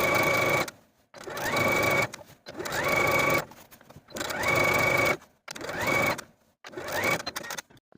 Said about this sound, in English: Then we're going to edge stitch close to our finishing stitches all the way around